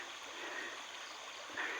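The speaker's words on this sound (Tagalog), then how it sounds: "meron po kami ditong sinatawag na ilog" River in a muddy rural village in the Philippines, a steady, broad wash of flowing water, moderately faint and continuous with no voices.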